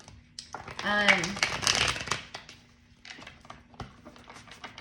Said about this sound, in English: I want to get a nice little shuffle in though,